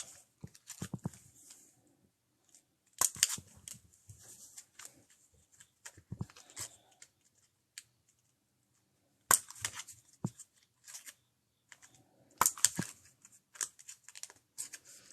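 Scissors trimming a tablet weaving card, with sharp, close snips in scattered bursts separated by quiet pauses and faint handling rustles.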